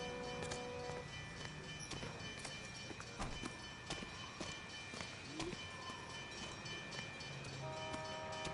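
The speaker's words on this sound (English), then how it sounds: "I hear a train." Steam-era train in the 1940s Los Angeles crime game LA Noire, rumbling steadily with rhythmic clattering, clip-clop-like knocks and a horn-like tone, at moderate distance under ambient city background.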